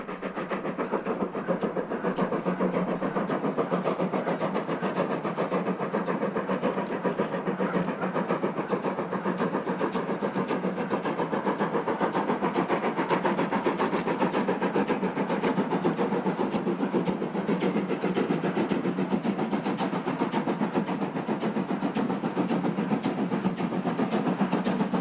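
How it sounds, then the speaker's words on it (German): Steam locomotive 52 8075 hauling a freight train of ten hopper wagons up the steep Rennsteig incline, a dense continuous roar of rapid exhaust beats with mechanical clatter, loud and steady throughout. "Die langen Auspuffschläge lassen die Kraftanstrengung erahnen."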